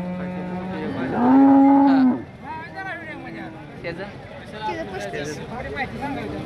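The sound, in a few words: cow mooing at Modnimb cattle market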